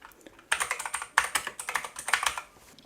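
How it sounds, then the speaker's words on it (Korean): Fast, crisp typing on a mechanical keyboard fitted to a Raspberry Pi 400 PC, with close, clicky keystrokes arriving in three quick flurries after a short quiet start. "또 기계식으로 바꿨는데 또 타이핑 한번 해봐야 되겠죠?"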